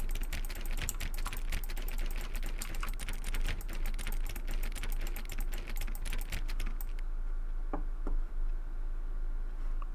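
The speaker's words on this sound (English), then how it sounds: "What if I keep clicking on the door?" Rapid, dense clicking of a computer mouse or keyboard while playing The Stanley Parable, a close steady run of sharp ticks for several seconds before it stops, leaving a few isolated clicks.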